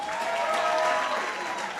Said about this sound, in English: Let's give a round of applause to the CEO of Geek Culture, Mr. Misho